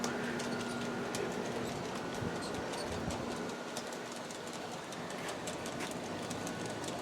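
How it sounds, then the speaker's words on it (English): A G scale model of the Napa Valley Wine Train runs along an outdoor garden track beside a back fence. Its faint, steady rolling clatter is joined by a sustained tone, and birds call in the background. "as the train goes alongside the back fence here on the way home"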